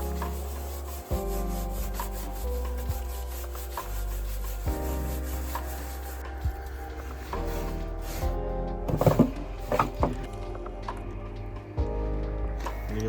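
Sound deadening is scraped off the floor of an E36 car, making repeated close rubbing and scraping strokes with short gritty bursts and brief pauses, under a steady tonal background.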